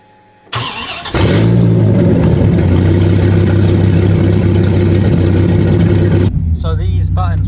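A V10 Viper engine swapped into an RX-7 fires up and revs with its exhaust cutouts open, a loud continuous roar near at hand that runs for several seconds before voices talk over a settling idle.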